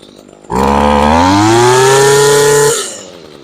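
A small two-stroke engine runs at a raised idle after carburetor adjustment, giving a loud, steady buzzing drone that creeps slightly upward in pitch for about two seconds before cutting off.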